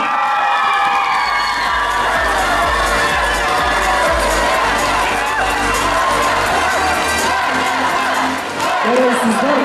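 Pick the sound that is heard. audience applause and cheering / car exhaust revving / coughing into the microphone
audience applause and cheering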